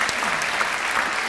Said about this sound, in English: So how about a round of applause for Mrs. Connect?